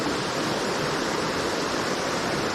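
A waterfall in Upper Michigan gives a steady, even rush of falling water, a dense continuous roar that holds at the same level throughout with no voices over it.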